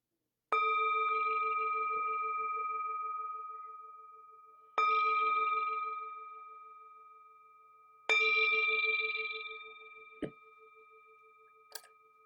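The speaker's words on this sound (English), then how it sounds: "The sound of this beautiful bell returns us to our true home." A resonant meditation bell struck three times with long pauses between, each tone ringing out and slowly decaying, followed by a couple of soft clicks.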